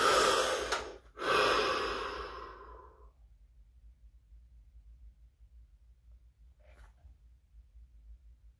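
A deep breath drawn in and let out at close range, a loud, breathy rush lasting about three seconds with a brief catch partway through, then near silence with one faint soft sound afterward.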